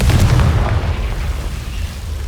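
A Confringo spell from the video game Hogwarts Legacy detonates in a loud, deep explosive boom, followed by a rumbling, crackling tail that slowly fades over a couple of seconds.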